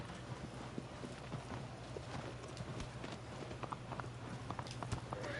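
Horse hooves clop steadily as a rider travels in the video game Shadow of the Colossus, a quick rhythmic trot of repeated hoofbeats over a low ambient rumble, fairly faint and continuous.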